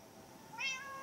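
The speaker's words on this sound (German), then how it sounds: "Katze." A single short cat meow from the Minecraft Story Mode video game, rising and clear, appearing midway over a quiet background, with no talking.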